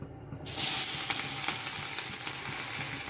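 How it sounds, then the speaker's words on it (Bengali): Chopped onion goes into hot oil already spiced with a bay leaf, dried chilli, cinnamon, clove, cardamom and cumin, bursting into a loud, close sizzle after a brief quiet moment and then frying steadily. "এবার পেঁয়াজ কুচিটা দিয়ে দেবো।"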